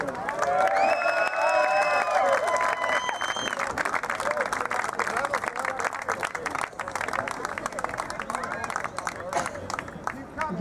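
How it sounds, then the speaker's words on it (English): A crowd at a basketball game applauds steadily, a dense wash of clapping with some cheering, while a voice speaks over the start. "Again, let's give them another round of applause."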